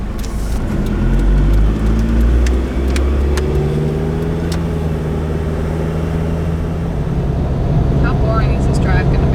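A car driving on an inland road, a steady loud engine and road rumble that holds throughout from inside the cabin, with faint voices under it.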